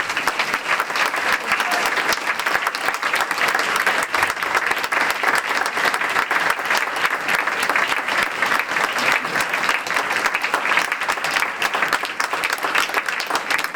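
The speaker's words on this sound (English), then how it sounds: "Continue cheering, continue cheering." Sustained, dense applause from a large audience at the 2004 Luton ACCDF Achievers Awards ceremony fills the whole stretch at a steady, even level with no pauses.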